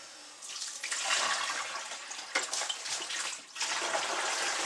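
Pickle solution is dumped out of a container where a coyote hide was soaking, heard as a steady, fairly quiet pouring gush of liquid with a brief dip partway through.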